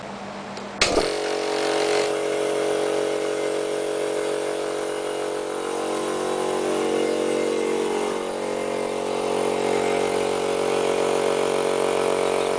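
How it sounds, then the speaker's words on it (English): An old air compressor with a regulator housing and taps starts abruptly with a loud thump. It then runs steadily and fairly loud for several seconds, a continuous motor drone with a faint rising hiss as pressure builds. "see if this compressor works"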